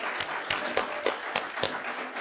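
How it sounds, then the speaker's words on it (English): Small audience applauding a student at a school event: sparse, quiet claps landing in an uneven rhythm, a handful of distinct slaps over a couple of seconds, fairly distant. "I think Anthony needs a clap"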